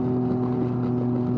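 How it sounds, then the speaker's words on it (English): A Can-Am Ryker 600 three-wheeler with a CVT, engine humming steadily as the throttle is cracked open, a loud, even droning tone that holds through the clip with no voices. "You just crack the throttle open"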